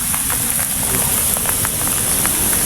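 Steady rain falls outdoors in the Philippines, a dense, even hiss with scattered drop ticks, close and fairly loud throughout.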